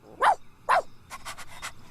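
A farm dog gives two sharp, close barks, then a run of quick panting breaths and soft yips.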